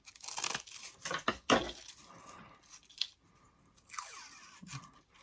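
Green paper stem wrap cut with scissors in a quiet room, with a few close, crisp snips and rustling crinkles in short bursts, alone without talk.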